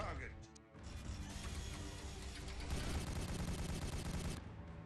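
Rapid video game gunfire crackles almost continuously through the fight, loud and dense, with a brief lull near the start and an abrupt stop just before the end, while a voice talks over it.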